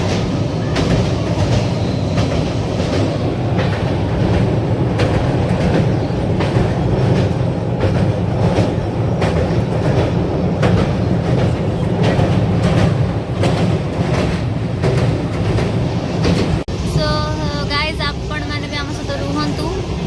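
A train rumbles steadily along the rails with a rhythmic clatter throughout, loud and close, with some voices murmuring underneath.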